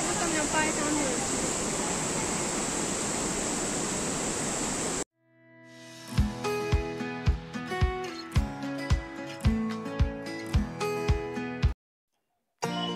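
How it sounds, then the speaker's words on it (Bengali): Water pours down the Kanchenjunga Waterfall in a steady, dense roar for several seconds, then cuts off and is replaced by plucked, rhythmic music. "কোনো রকম ব্যাকগ্রাউন্ড আওয়াজ রাখলাম না, শুধু জলের আওয়াজটা খুবই দুর্দান্ত।"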